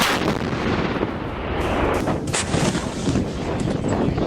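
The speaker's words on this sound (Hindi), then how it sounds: "ये है हिंदुस्तान के सारंग तोप" Indian Army Sarang artillery gun firing, a dense, loud burst of booming blasts and crackling rumble that runs continuously without pause.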